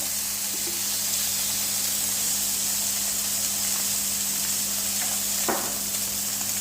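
Vegetables roast in a frying pan, seasoned with salt and pepper, giving a steady close sizzle and hiss that continues the whole time, with a low electrical hum beneath and one brief clatter near the end.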